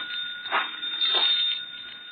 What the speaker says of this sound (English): I think that's your phone.